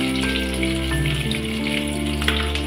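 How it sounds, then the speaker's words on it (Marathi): Garlic tossed into hot ghee with cinnamon, cardamom and cumin, frying with a steady, close, continuous sizzle and crackle that holds evenly throughout, no talking over it. "त्यामध्ये आपण टाकूया लसूण"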